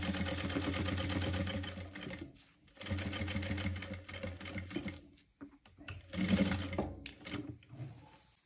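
Sewing machine stitching a velvet long kurti blouse for a lehenga, running in long steady close bursts with brief pauses and a stop-start stretch near the end.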